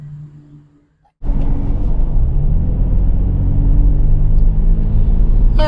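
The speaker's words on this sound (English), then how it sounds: "All right, we're out on the road in this 24 4Runner SR5 base trim with 4-wheel drive" A 2024 Toyota 4Runner SR5 4x4 driving on the road, a brief quiet moment followed abruptly by a steady loud interior rumble of engine and road noise that continues evenly.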